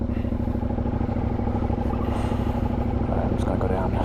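Motorcycle engine running low and steady as the bike rolls slowly downhill in gear, a constant close drone with rattling clatter near the end.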